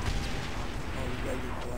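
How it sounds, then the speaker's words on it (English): An enemy tank firing in Call of Duty: World at War, with heavy booming cannon blasts and gunfire rumbling loud and continuous in the game, with some voice mixed in. "Someone operating enemy tank is shooting at me"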